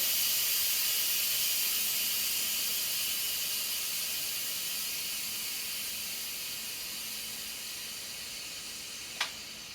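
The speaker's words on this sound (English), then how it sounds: "Now the steam came shooting out." A continuous loud hiss of steam jets from an Instant Pot pressure release valve, steady and close, fading slightly over several seconds with a brief sharp click near the end.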